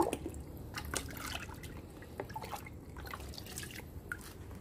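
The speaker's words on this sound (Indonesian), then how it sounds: "Kita siram dengan rata ini teman-teman." Water poured evenly onto soil around an imported grape vine planted in the ground, a quiet run of trickling and dripping splashes close by with no talk over it.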